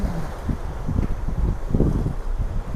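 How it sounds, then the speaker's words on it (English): Blustery wind buffets the microphone at Coles Bay on the Freycinet Peninsula, a steady low roar with repeated gusty thumps throughout and no voices. "It's a little blustery this morning"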